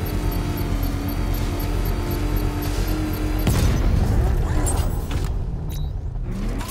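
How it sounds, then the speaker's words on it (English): A controlled bomb explosion set off with a power winch in Batman Arkham Knight: mechanical background noise, then a sudden loud boom and rumbling blast midway that slowly dies away. "I can use the power winch to trigger a controlled explosion."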